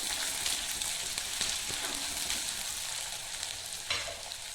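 Chopped onion sautés in oil in a pan for a curd curry, a steady close sizzle with intermittent stirring and scraping sounds.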